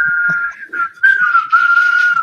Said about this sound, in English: Come on, get whistling.